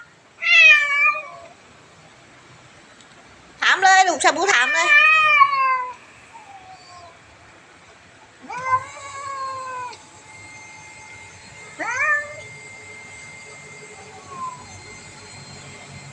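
Several loud, drawn-out meows and yowls from cats squaring off, some overlapping, with a steady airplane-like drone in the background and someone speaking briefly in Thai.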